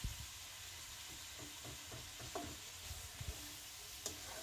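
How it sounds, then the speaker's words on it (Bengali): Vegetables with spice powder and salt frying in a covered wok, giving a steady close sizzling hiss broken by a few soft clinks and taps. "ঢেকে ঢেকে এভাবে ভাজলে ভাজিটা তাড়াতাড়ি সিদ্ধ হয়ে আসে।"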